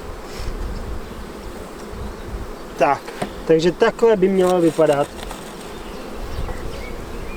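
Honeybees hum in a steady, close drone at an opened hive during an inspection before the final honey extraction, while someone speaks Czech in the middle.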